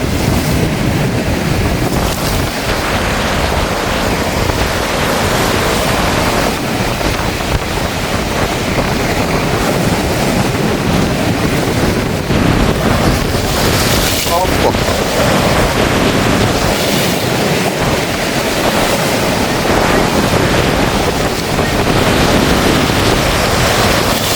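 Large sea waves crash against a rocky shore in Jaffna, a loud continuous roar of surf with heavy wind buffeting the microphone throughout.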